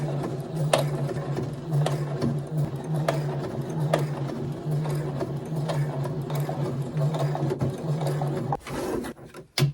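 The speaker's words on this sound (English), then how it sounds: "now I'm just gonna sew another seam across both of those layers" A sewing machine stitching a seam across layers of doll coat fabric runs close and steady, with a constant motor whir and rhythmic needle ticks that stop abruptly near the end.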